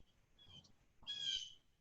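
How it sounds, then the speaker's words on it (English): Birds chirping outdoors, faint and distant, in two short bursts of high calls with a low background rumble. "Birds chirping, Nathan."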